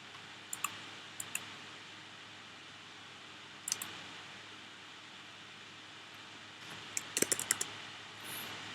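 A few faint, scattered keystrokes on a computer keyboard while a title is entered in a Google Classroom online exam form. The clicks come in small clusters over a steady background hiss.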